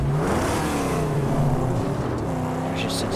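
Car engine in the video game Mad Max, a steady droning rumble that rises slightly in pitch as it revs, continuous and close, with a voice speaking over it.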